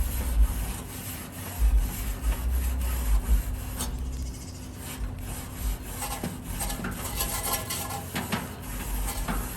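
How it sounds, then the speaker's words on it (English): A wire brush scrubs old residue off a hot barbecue grill in quick, repetitive rasping strokes, loud and close, with a scratchy metallic edge and no voices. "we give it a good clean. Just brush any old residue off of there."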